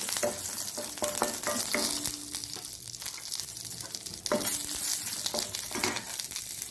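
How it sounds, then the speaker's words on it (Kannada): Curry leaves sizzle and crackle steadily in hot oil in a pan for a Mangalorean-style dish, with a few sharp spatters and occasional stirring scrapes, close and continuous, no voices. "ಎಷ್ಟು ಬೇಕು ಅಷ್ಟು ಈ ಕರಿಬೇವಿನ ಸೊಪ್ಪನ್ನು ಹಾಕ್ಕೊಳ್ತಿದ್ದೇನೆ. ಒಳ್ಳೆ ಫ್ರೈ ಆಗಲಿ."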